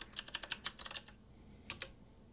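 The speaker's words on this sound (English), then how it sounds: "so I need to type in my password here." Password keystrokes on a computer keyboard, a quick run of about a dozen crisp, fairly close clicks, then a pause and two more taps, with no talking.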